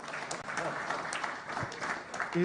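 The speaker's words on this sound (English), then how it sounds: "Let's clap for this Minister." Audience applause for a minister at the launch of a refugee and host community response plan in Uganda, a steady, moderately distant patter of clapping lasting a few seconds with a faint voice near the end.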